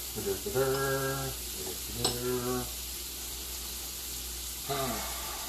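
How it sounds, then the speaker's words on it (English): Steak being stirred in a hot non-stick pan, with a steady oil sizzle running throughout while someone talks over it in several bursts. "Quick little stir."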